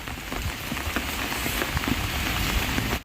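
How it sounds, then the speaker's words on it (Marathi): Steady, dense rainfall hissing continuously, with scattered drops tapping nearby; heavy and unbroken until it cuts off. "जास्तच वाढतोय खरं पाऊस."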